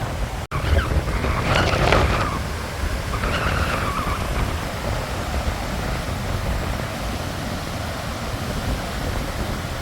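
Strong wind and heavy surf from a stormy sea, a steady roaring wash with a louder gust near the start and a brief sharp click, no voices.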